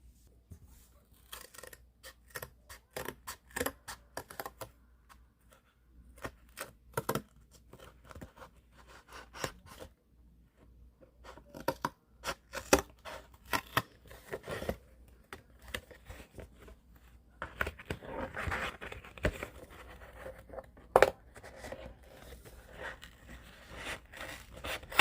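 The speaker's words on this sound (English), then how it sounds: "and now I'm going to cut it out." Scissors or a blade snip and scrape through cardboard while a piece for a cat hut is cut out, a series of quiet, close, irregular cuts and rustles with pauses, no talk.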